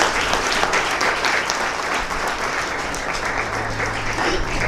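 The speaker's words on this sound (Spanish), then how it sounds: "Dele palmas al Señor." Sustained applause from a crowd, steady and dense clapping filling the space for several seconds with no voices over it.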